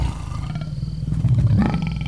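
A captive African lion lets out a deep, rumbling roar that swells toward the end, loud and close with no talk over it.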